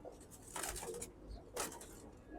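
Pigeons coo softly in two short, low, throaty bursts, quiet and fairly close against a faint background.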